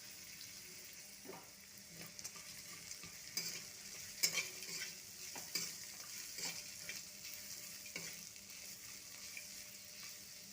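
A pinch of asafoetida sizzles in hot oil in a pan for lemon rice, a steady close frying hiss broken by irregular clicks of stirring.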